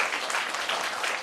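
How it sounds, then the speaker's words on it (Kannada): Students at a school event in Gulbarga clap loudly together, a brief burst of dense applause. "ಜೋರಾದ ಚಪ್ಪಾಳೆಯೊಂದಿಗೆ ನಮ್ಮ ವಿದ್ಯಾರ್ಥಿಗಳು ಅವರಿಗೆ"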